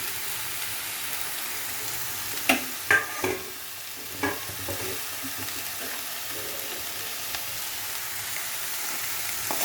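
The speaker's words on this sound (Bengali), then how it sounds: "এবারে আমি এই আলুটা দিয়ে দিচ্ছি।" Potatoes hit a hot pan of spices for a banana-stem curry, giving a soft, steady sizzle with a few sharp clatters and scrapes of stirring early on.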